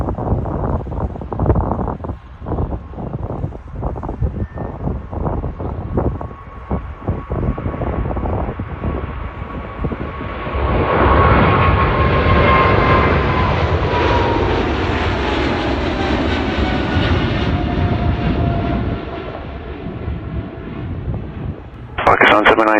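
A PIA Boeing 777 takes off from Toronto Pearson, its jet engines building from a low roar to a loud, rising whine that sweeps past close by and then recedes, with wind buffeting the microphone and a few short bursts of voice near the start.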